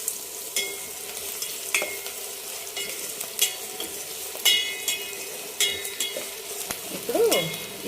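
Onions half-fried with turmeric in a pan for horse gram rasam, giving a soft continuous sizzle with repeated sharp stirring clicks and scrapes close by, one faint voice-like sound near the end.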